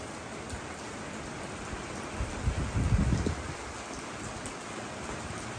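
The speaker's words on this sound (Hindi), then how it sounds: "ये देखें कितनी तेज़ बारिश हो रही है" Steady broadband rain hiss throughout, swelling into a heavier, louder gust-like surge in the middle before settling back to a constant downpour.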